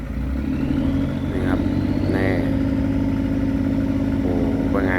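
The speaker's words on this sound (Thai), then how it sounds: "ใช้เครื่องยนต์คัมมินเลยนะครับ ชัดเจนครับ นี่ครับ พึ่มๆเลย" A heavy Cummins diesel engine on a tugboat towing three heavy pontoons drones steadily and loudly throughout, a constant low throb with a few brief whistling tones rising over it.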